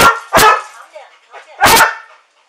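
A trained trauma search dog gives a few loud, sharp barks close by, separated by short gaps and with softer yips between them.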